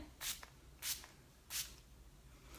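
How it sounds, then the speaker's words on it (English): Three short hissing spray bursts, evenly spaced, from a pump bottle misting close by, with quiet gaps between them. "So I'm gonna go ahead and spray this on my skin."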